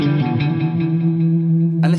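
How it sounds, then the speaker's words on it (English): A Univibe effect running on a Boss Katana guitar amp, colouring sustained electric guitar notes with a throbbing, swirling modulation that sits close and fairly loud, with a brief brighter burst near the end. "I've got a Univibe."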